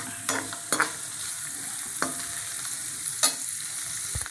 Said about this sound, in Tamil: கொஞ்சம் கலர் வந்தோன்னா நம்ம வறுத்து எடுத்துடலாம்.